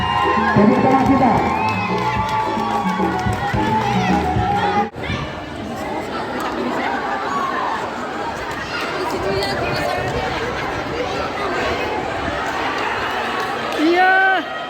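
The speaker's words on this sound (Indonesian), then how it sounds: "tepuk tangan kita" A crowd at an HKBP church women's gathering with tie-tying and make-up contests cheers and chatters loudly, with shouts and whoops under an announcer's voice, the noise holding steady throughout.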